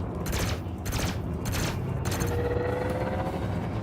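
Gimbaled pulse lasers on a spaceship in Elite Dangerous fire in rapid bursts, about five rhythmic volleys of crackling shots over a steady engine hum, followed by a thin whining tone.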